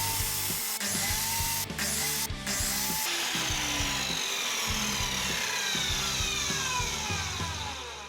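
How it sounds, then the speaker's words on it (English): Sanding reclaimed timber door handles with a power sander, a loud, continuous whirring drone with shifting grinding tones and brief catches as the tool moves over the wood, close by, with no talk. "Giving them a good sand, and there you go."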